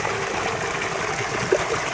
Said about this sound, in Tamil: நம்ம பைப்லைன் மூலம் எப்படி நீரில் கலந்து வருது பாருங்கள்